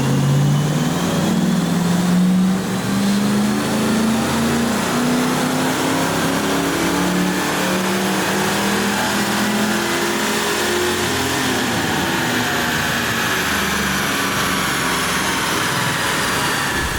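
A Fox Body Mustang engine revs hard on a dyno, its loud, sustained drone climbing steadily in pitch for most of the pull before easing off near the end.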